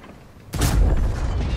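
A single heavy tank cannon blast in World of Tanks erupts sharply after a quiet moment, followed by a rumbling, sustained roar.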